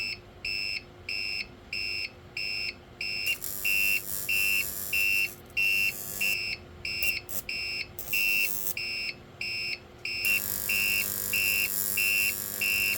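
Harsh electrical buzzing from a microwave oven transformer, powered by an inverter through a ballast coil and light bulb, pulses on and off in a rapid rhythm, then runs continuously, over a faint low steady hum.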